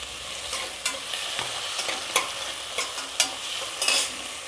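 Soft, steady sizzling of onions frying in a pan until brown for kuska, punctuated by occasional scrapes and taps of a stirring utensil.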